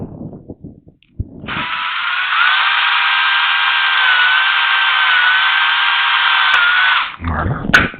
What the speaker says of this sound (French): je vais prendre ma perceuse